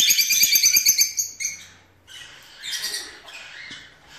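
Baby lovebird and cockatiel chicks chirping, a fast rhythmic run of high, close begging peeps that breaks into looser, softer chirps and squeaks with short pauses.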